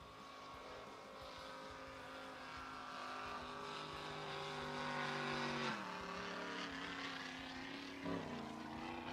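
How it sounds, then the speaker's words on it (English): A Pro Jet racing powerboat roars past at a drag boat Grand Prix in Paris, Texas, its engine a rough, strained drone rising and shifting in pitch, loud and fairly close, with no talking over it. "That boat, I don't know if it's just me, that boat just does not sound happy."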